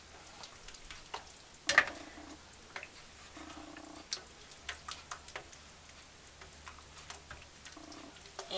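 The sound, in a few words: mushrooms and canned oysters sizzling while heating in pan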